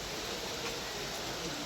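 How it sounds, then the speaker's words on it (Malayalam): Rain falls steadily as a dense, even hiss of noise filling the brief stretch without any distinct drops or voices. "അതിനിടയ്ക്ക് മഴ എടുത്തു."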